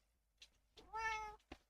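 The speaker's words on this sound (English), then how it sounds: "That's my cat." A house cat gives a single drawn-out meow, close but quiet, framed by a couple of soft short sounds in an otherwise still room.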